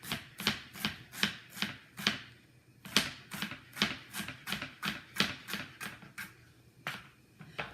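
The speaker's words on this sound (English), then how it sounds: "So I'm just cutting them up really, really, really, really, really teeny." A knife chops vegetables into tiny pieces for a veggie plate, with quick, steady, crisp chops on a board, close and clear, and no talking.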